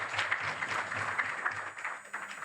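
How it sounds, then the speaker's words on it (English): Audience applause at a youth participation event, a steady wash of many hands clapping at moderate distance, fairly soft and continuous for a couple of seconds with no talk over it. "Let's give them a big hand of applause."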